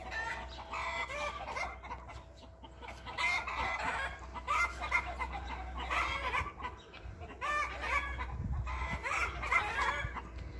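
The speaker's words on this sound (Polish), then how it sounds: "kury krzyczą, jeść." Chickens on a farm cluck repeatedly and a rooster crows, moderately close and continuous against a low steady background hum.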